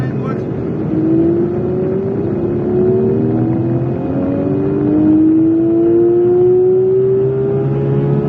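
A Porsche 911 922 GT3 RS accelerates down the straight at the Magny-Cours circuit, its engine note climbing steadily through the gears with loud, close, rising whines heard from inside the car.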